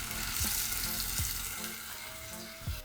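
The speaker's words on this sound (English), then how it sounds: "Tofu going in." Tofu frying in hot red palm oil in a skillet, a loud steady sizzle with a few soft thumps and stirring knocks, no voices.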